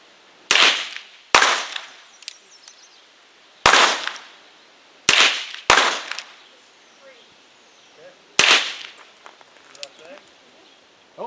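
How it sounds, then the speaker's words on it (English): Percussion caps popping on a Pietta Colt .44 Navy black powder revolver, six sharp, loud cracks at uneven intervals with quiet gaps of handling noise between. "It's like a cap gun."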